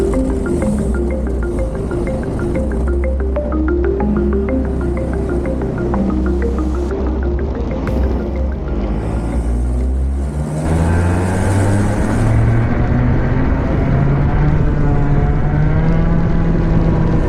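A 100cc two-stroke kart engine is being run in, droning loud and close with a buzzing, steady note that drops briefly, then climbs gradually in pitch as it revs up again.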